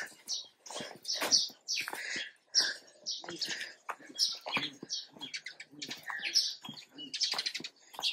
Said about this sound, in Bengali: পাখির আওয়াজ, কত পাখির আওয়াজ আসছে না